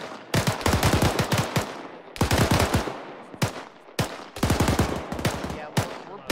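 Rapid bursts of automatic gunfire in the military shooter ARMA 3 during a platoon training session, three long rattling volleys with short pauses between, loud and close, plus a few single sharp shots.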